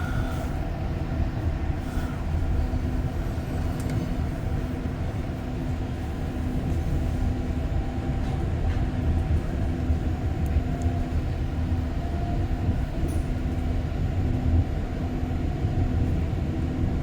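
Inside a REM light metro train in Montreal, between Central Station and Brossard Station, a steady loud rumble and whine of the running car continues throughout, with faint rattles and no voices.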